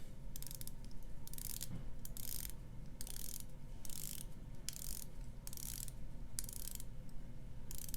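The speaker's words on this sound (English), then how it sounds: "I'm going to twist the bezels and give you guys some bezel action" The ratcheting bezel of an Orange Islander Monster dive watch is twisted in a steady run of quick clicking bursts, close and fairly quiet over a faint hum, no talk.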